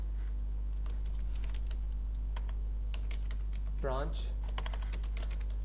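Rapid clicking of computer keyboard keys, with irregular bursts of taps and a brief pause, runs close and fairly quiet while someone speaks briefly over a steady low hum.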